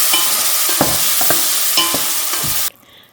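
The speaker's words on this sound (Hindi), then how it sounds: "थोड़ा सा साबुत ज़ीरा इसमें डालकर मैं इसको स्प्लेटर होने दूंगी।" Whole cumin seeds sizzle and splutter in hot ghee, a loud continuous frying hiss with a few sharp pops and stirring clinks, cutting off abruptly near the end.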